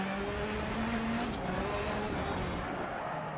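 Rallycross race cars roar over a jump on the track, engines droning steadily with rising and falling pitch and some tire noise, moderately loud and continuous with no talk.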